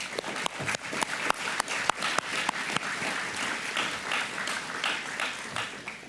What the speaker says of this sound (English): I want to give you a huge round of applause.